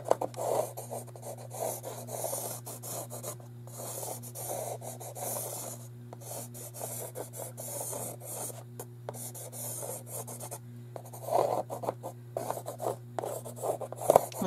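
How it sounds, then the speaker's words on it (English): A charcoal pencil scratches and rubs in lines across canvas, with steady, close, dry strokes repeating in short bursts and brief pauses between them, and no talking. "I'm going to start with my charcoal pencil and just make some lines."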